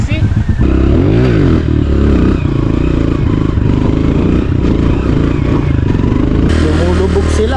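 A Honda CRF dirt bike, a 125 or 250cc machine, runs with its engine rumbling steadily and loudly throughout, rising slightly in places, with a person talking over it the whole time.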